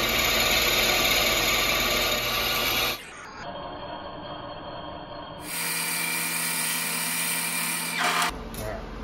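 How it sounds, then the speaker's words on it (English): A corking machine drilling 8 inches down into a wooden baseball bat, a loud, steady whining drill that changes pitch twice as the bit bites deeper, with a voice talking over it. "We're gonna drill down 8 inches into this thing and take a bunch of weight off here."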